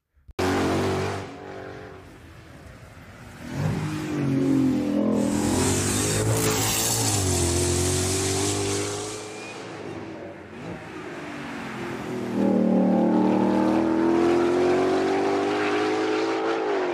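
A 2025 Ford Mustang GTD's engine revs in rising and falling waves, loud and close, with throttle blips building to a sustained high-rpm pull.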